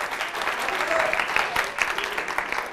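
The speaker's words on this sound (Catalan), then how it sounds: "Un aplaudiment per ells, si us plau." An audience applauds a school team at a Catalan student quiz competition, a fairly soft, steady patter of clapping from a modest crowd lasting a few seconds.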